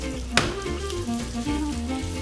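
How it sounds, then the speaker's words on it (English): Steady sizzling of sliced onions and vegetables frying in hot oil for Bolognese soffritto, with a sharp clatter near the start and faint background music, no talking. "So the oil is hot, let's throw our nicely sliced veggies inside."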